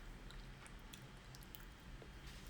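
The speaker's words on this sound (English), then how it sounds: "Sorry if you don't like chewing sounds." A banana being chewed up close, with soft, faint, wet mastication sounds repeating over a low, steady background hum.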